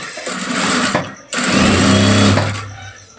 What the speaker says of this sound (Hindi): तो अब हम इसको सिलाई लगाएंगे, 1/2 इंच के मार्जिन पे बिल्कुल लगाएंगे।